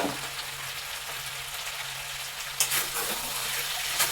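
Meat frying on a gas stove, a continuous close sizzle with occasional stirring clinks and a faint low hum, without talk.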